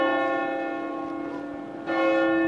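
Church bells ring in the Gros Horloge belfry, a loud sustained metallic tone hanging in the air before a fresh strike lands near the end and brightens the ringing again.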